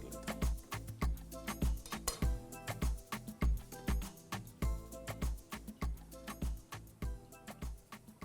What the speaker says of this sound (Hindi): थोड़ा सा अदरक चॉप कर लेते हैं